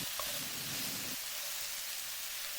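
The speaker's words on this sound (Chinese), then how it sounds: "翻炒好之后，我们用铲子将其翻炒一下" Chicken wings sizzle in a wok as a spatula stir-fries them, with a soft, steady hiss and brief scraping in the first second, then quieter frying.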